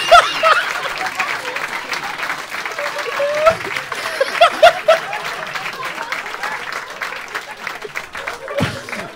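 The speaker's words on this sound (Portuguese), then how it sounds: "Essa hora que tinha que aplaudir" Audience applause at a comedy show, a loud burst of clapping that fades into scattered claps and light chuckles, with some voices mixed in.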